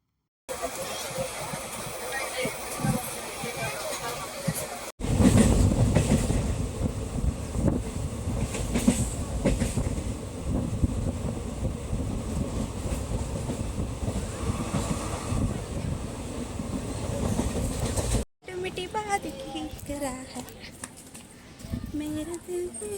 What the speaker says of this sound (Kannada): ಟ್ರೈನ್ ಕೂಡ ಬಂತು, ನಾವು ಕೂಡ ಹತ್ತಿ ಆಲ್ರೆಡಿ ಜರ್ನಿ ಕೂಡ ಸ್ಟಾರ್ಟ್ ಆಯಿತು